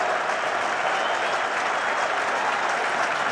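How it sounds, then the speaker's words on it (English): Spectators around the ground at a 1988 England cricket match applaud a fine shot, a dense, steady wash of clapping from a distant crowd that holds evenly throughout with no voices standing out. "Applause from Pringle and from everyone around the ground."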